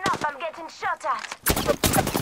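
Gunfire in the battle royale game Apex Legends: a voice talks briefly, then a sudden run of loud, dense shots and crackling impacts fills the last second.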